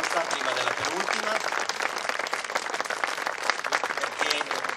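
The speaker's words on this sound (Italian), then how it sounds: "Volevo fargli un grande applauso" A concert audience applauds the Filarmonica Sestrese, a philharmonic band, at an Arenzano music academy event: dense, steady clapping fills the whole stretch, with a voice faintly under it.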